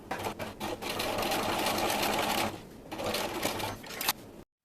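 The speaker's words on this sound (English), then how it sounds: "the last thing I'm going to do is add top stitching right there on the edge" Sewing machine running steady bursts of top stitching along the edge of a fabric zipper pouch, close and continuous with a brief pause midway before stitching resumes.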